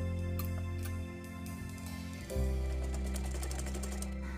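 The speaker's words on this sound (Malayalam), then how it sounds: "ശേഷം സെയിം ഇതുപോലെ തന്നെ ഞാൻ സ്റ്റിച്ച് ചെയ്ത് പോവുകയാണ്." A sewing machine stitches skirt pleats made from a set mundu, a close, steady mechanical whirr with rapid needle clatter that rises in pitch and gets louder about halfway through; nobody speaks.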